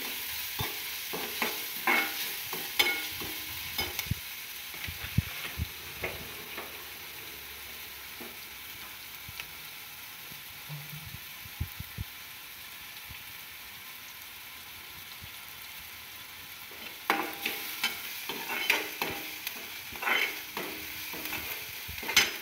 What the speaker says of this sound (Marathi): कांदा चांगला लाल भाजायचे। 2 मिनिटं भाजून घेऊया आपण तेलामध्ये।